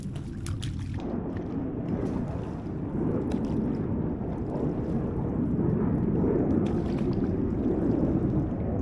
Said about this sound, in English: pack everything on, and we will paddle out